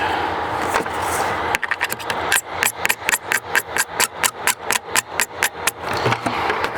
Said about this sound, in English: utility knife. Clean that off. Trim around the hole so it seats good.